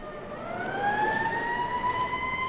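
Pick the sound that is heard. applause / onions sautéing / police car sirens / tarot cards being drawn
police car sirens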